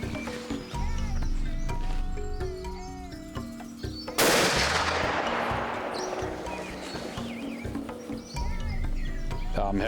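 A hunting rifle is test-fired once during a safari in Dande, a single sharp, loud report followed by a fading outdoor rumble, with muffled voices and ambient noise around it.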